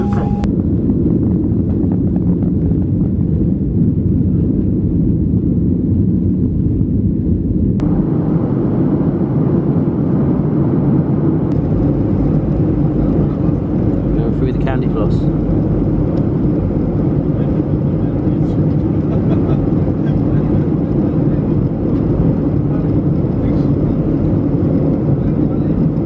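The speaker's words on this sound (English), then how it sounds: "Getting on the plane. Everyone come into land." Inside an airplane cabin on landing approach, a loud steady engine and air rumble drones throughout, shifting in tone partway, with voices speaking faintly beneath it.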